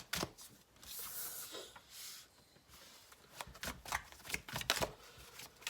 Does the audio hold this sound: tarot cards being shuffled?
yes